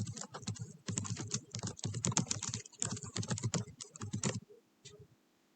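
Rapid, steady typing on a computer keyboard, dense key clacks running for about four seconds before tapering to a few final taps, close and clear with no talking.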